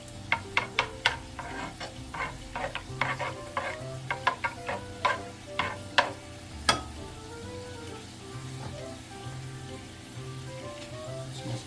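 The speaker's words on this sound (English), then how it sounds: "A little bit of stir." Garlic chicken and potatoes sizzle in a pan under a steady low frying hiss while a utensil scrapes and taps around the pan in a quick series of sharp strokes, then eases off.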